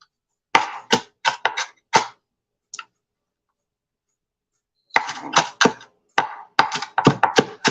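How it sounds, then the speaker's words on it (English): A knife chops vegetables roughly on a cutting board in quick bursts of crisp, close knocks, then a pause of near silence, then another fast run of chops. "I'm just giving it a rough chop"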